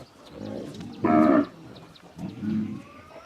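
A large cow at a cattle farm moos loudly and close by, then gives a second, softer moo, with low rural background noise in between.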